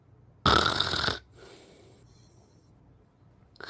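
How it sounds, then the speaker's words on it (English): A loud, rough snoring snort bursts out for under a second, followed by a fainter, breathy wheezing tail, then near silence with no talking. "Sounded like someone was snoring or something"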